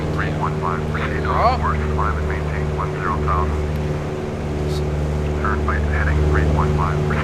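A Mooney Bravo light airplane flying near Republic Airport, its engine and propeller giving a steady, unbroken drone while someone talks over it.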